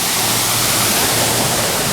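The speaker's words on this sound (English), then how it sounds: "Look, a waterfall." Steady rushing water from a waterfall at a mini golf course at Kimball Farms, a broad continuous roar that fills the whole stretch fairly loudly with no pauses or voices.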